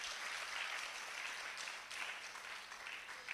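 Church congregation clapping in a steady, dense wash of hands, distant and faint, continuing without a break for a few seconds with no voices on top.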